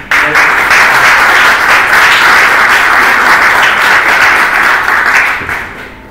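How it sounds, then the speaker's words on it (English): Loud, close applause from a tech meetup audience for a speaker named Iveta, a thick steady burst of many hands clapping that tapers off slightly in the final second. "Okay, let's give a big round of applause for Iveta."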